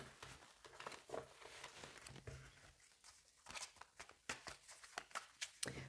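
A deck of tarot cards being shuffled by hand, a close, soft run of riffling and patting bursts with brief pauses between them and no talking.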